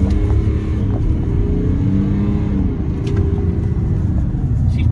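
A pickup truck's 3.0L Duramax diesel engine rumbles low and heavy as it accelerates, a steady, loud drone heard from inside the cab without talking.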